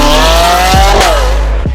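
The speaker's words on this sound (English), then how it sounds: "Just wrapped up a 2019 Aventador S, full titanium exhaust." A 2019 Lamborghini Aventador S with a full titanium exhaust makes a loud, close engine roar that rises and then falls between quick gear shifts, with tyre noise underneath.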